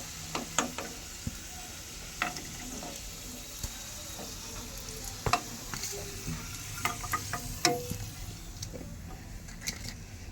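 Potatoes frying in hot oil in a pan for biryani, a steady low sizzle broken by scattered clicks and scrapes of stirring, fairly faint and close, with no voices.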